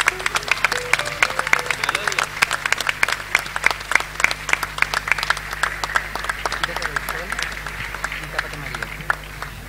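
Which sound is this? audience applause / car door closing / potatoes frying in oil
audience applause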